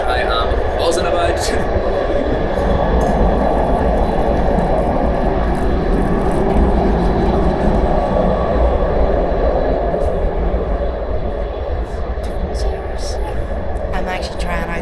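Interior of a moving train in China, a continuous rumble of wheels and carriage noise with faint clicks and rattles throughout, with a person talking over it.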